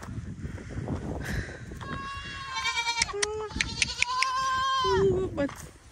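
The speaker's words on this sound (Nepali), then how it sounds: "ए बाख्रा पालन रहेछ यहाँ चाहिँ।" Goats bleat repeatedly at a goat pen in a hill village in Dhankuta, Nepal: several loud, close, wavering calls overlap one another, with a person talking over them throughout.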